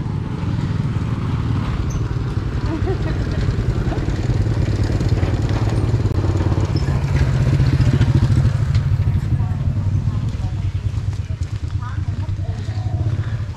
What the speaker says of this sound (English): see how much they can get on a moped with a sidecar